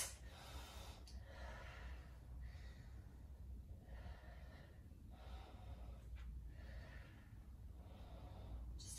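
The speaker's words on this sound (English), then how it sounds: "Hear my breathing." Heavy, rhythmic breathing during a hot-weather weights workout, with sharp inhales and exhales repeating roughly every second or two, close and fairly quiet.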